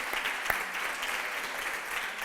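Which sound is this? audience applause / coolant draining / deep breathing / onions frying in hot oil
audience applause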